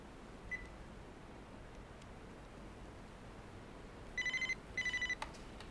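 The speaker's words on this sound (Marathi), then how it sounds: "फोन लावा." A telephone rings faintly through a handset while a call is being placed, giving two short bursts of rapid electronic trills near the end after a long stretch of quiet hiss.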